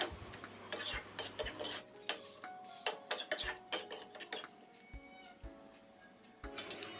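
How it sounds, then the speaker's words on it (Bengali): A spoon stirs okra curry in a pot for a vegetarian bhindi dish, giving repeated close scraping and clinking strokes against the metal with short pauses and no talk. "এবার ঢেঁড়সটাকে মিক্স করে দেব ঢেঁড়স বা ভেন্ডি এটাকে মিক্স করে নেব সুন্দর করে"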